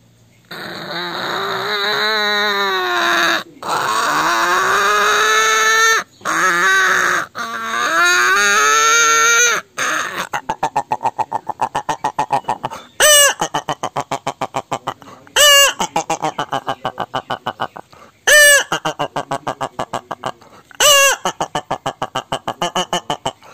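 A performer on a talent show stage uses their voice to imitate a hen clucking after laying an egg. Long, drawn-out wavering calls give way to rapid, loud, close bursts of repeated clucks.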